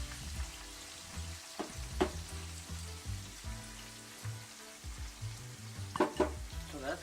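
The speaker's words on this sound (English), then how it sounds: "If it starts to sizzle, then you know it's ready to go." Soft crackling sizzle of onions frying in hot oil, with a few clinks and scrapes of a utensil; quiet and close, no voices.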